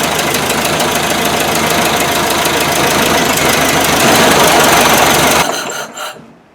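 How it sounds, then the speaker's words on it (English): An old engine, about 65 years old and newly fitted with a replacement timing gear, idles loud and close with a fast, rattly metallic clatter for several seconds before cutting off near the end. "It's still rattly, but it's running good."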